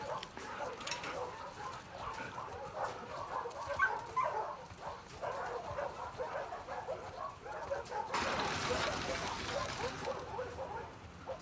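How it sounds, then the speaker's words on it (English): In The Last of Us Part 2, a dog gives a run of short barks, yips and whimpers at moderate distance, and a brighter burst of noise comes near the end, with voices mixed in. "Hey, you crazy dog."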